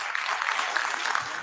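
Audience hand clapping, a steady round of applause from a seated crowd at a talk session, filling the short moment at moderate level without pauses.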